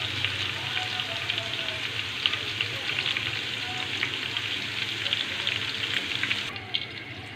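Okra pieces frying in hot oil give a steady, dense sizzle with faint crackles throughout, close and continuous, with no voices.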